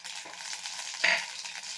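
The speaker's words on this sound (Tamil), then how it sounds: "இப்போ கடுகு பொரிஞ்சிட்டு சோம்பு கசகசா பட்டை எல்லாம் போடலாம்" Mustard seeds popping in hot oil as fennel, poppy seeds and cinnamon go in: a soft continuous sizzle with light crackles and one brighter hiss, close and alone.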